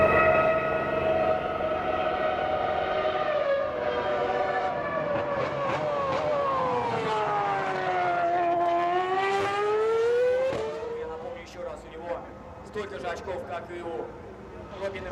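Red Bull RB6 Formula One car, the 2010 championship winner, running at the 2012 Moscow World Series by Renault event: a high-pitched engine note sweeps down and up through gear changes, heard under continuous commentary.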